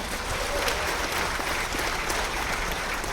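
An audience at a live crypto trading event gives sustained, dense applause. The clapping is loud and even and fills the whole few seconds.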